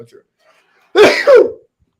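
One loud, close sneeze in two bursts, preceded by a short intake of breath.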